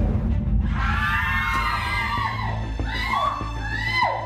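A woman screams in a dramatized reenactment set in a beauty parlor during a power outage, a loud high wavering shriek rising and falling over several seconds with another cry near the end.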